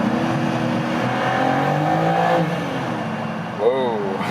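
A BMW M4 engine revs and accelerates through a tunnel, its rising tone echoing off the walls beneath someone talking, with a sharp surge near the end.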